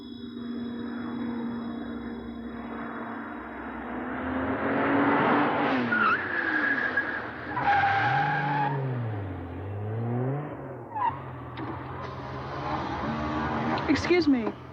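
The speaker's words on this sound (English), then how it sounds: "It's stock car racing at its colorful best." Stock car race cars at Bristol Motor Speedway during the 1989 Jay Johnson 200 roar loudly past with rising and falling engine whines and tire skids, sustained and dense throughout.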